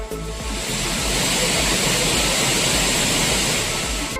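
Roaring waterfall at Courtallam's Meen Aruvi, a loud, dense, steady rush of falling water that continues without a break.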